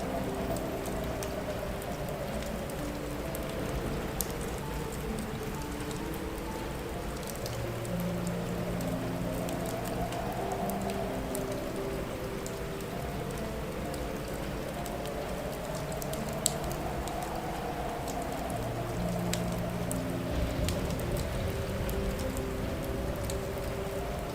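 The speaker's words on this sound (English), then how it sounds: "On the seventh night, a storm rolled in." Steady, heavy rain pours continuously, a dense hissing patter with a low rumbling undertone throughout.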